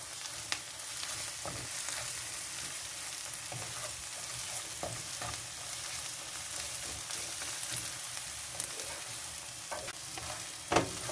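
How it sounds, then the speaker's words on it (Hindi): Steady sizzling of ginger and garlic frying in a hot pan for mutton brain masala, with occasional soft scrapes and clinks of stirring, close and continuous, no voices. "3 से 4 मिनट हमने अदरक लहसुन को फ्राई किया है।"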